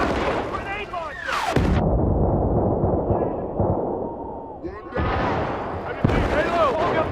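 Grenade launcher fire in the video game Battlefield: Bad Company, with loud booming blasts and broad bursts cutting through continuous gunfire and battle noise, while soldiers shout in the background.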